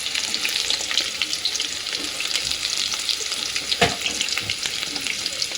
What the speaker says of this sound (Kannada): ಸಿಂಪಲ್ಲಾಗಿ ಸ್ವಲ್ಪ ಫ್ರೈ ಮಾಡ್ತಿದ್ದೀವಿ ಅಷ್ಟೇ